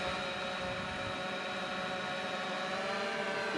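A 3DR Solo drone hovers and rises after takeoff, giving a steady, dense whine of buzzing propellers with layered tonal harmonics, close and unbroken throughout.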